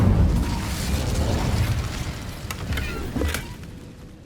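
An Incendio fire spell cast in Hogwarts Legacy, a roaring burst of flame with a low rumbling whoosh, followed by a couple of sharper crackling pops as it fades.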